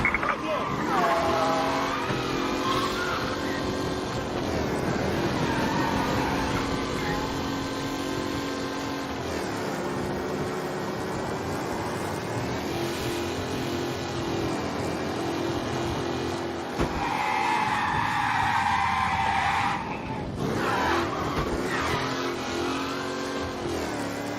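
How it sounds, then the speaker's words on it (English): A race car engine in the video game Mafia: Definitive Edition roars and revs continuously through city streets, shifting pitch as it speeds along, loud and close, with a brief dip near the end. "Race car breaking the limit through the city."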